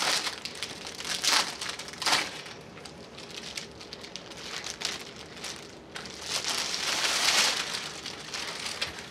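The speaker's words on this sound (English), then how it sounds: "So I'm going to open this up. I kept its original plastic packaging" Original plastic packaging around a doll photography set is opened, with repeated crinkling and crackling rustles in uneven bursts close by. No one speaks.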